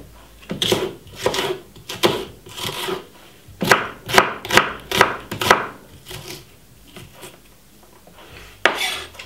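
A small piece of white onion is chopped on a board, a close series of sharp knife strikes in uneven bursts with brief pauses between.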